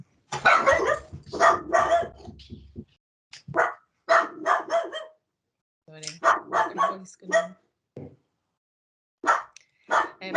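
A dog barks repeatedly in the background of an online committee meeting, irregular bursts of sharp barks and yips spread across the clip, fairly close and clear, with no talking over it.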